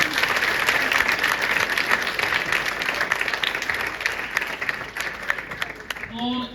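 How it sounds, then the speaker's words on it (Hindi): Students in a classroom break into loud, sustained applause, a dense wash of clapping running throughout before tapering as a voice starts speaking near the end. "तालियों के साथ।"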